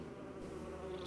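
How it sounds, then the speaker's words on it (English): War wasps from the video game Metroid Prime give a continuous insect-like buzz that drones steadily and fairly faintly for about a second, with no voices. "These war wasps are so friggin' annoying."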